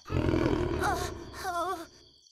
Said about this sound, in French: Ça ressemblait à un chat beaucoup plus gros.